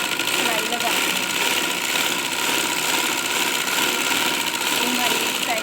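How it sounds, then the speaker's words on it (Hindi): A sewing machine stitches along one side of a fabric strip, giving a steady, continuous mechanical whir that runs unbroken at close range throughout. "तो अब हमने इसे एक साइड पे सिलाई लगानी है।"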